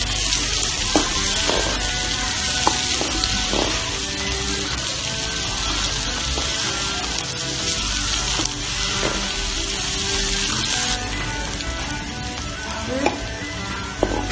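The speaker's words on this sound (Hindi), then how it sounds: "प्याज जो है वो फ्राई हो रहा है और अभी इसका कलर नहीं आया।" Sliced onions fry in a pan over a medium flame for fish curry (machli ka salan), a loud, continuous hiss and crackle close by, with occasional spoon strokes and a brief scrape near the end.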